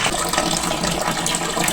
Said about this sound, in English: the water is coming away from the tap to the washing machine